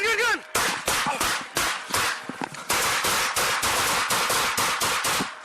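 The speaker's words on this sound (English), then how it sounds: "the officers unload a barrage of gunfire" Police officers fire a rapid barrage of gunshots, many sharp, loud cracks in quick succession with brief gaps, continuing for several seconds.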